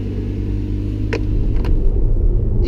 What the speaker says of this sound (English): you can still hear the engine while we're driving